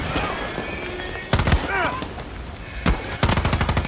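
Gunfire in Far Cry 6: two loud bursts of rapid automatic shots, the second a fast rattling string, with quieter ambient battle noise between them and no talking.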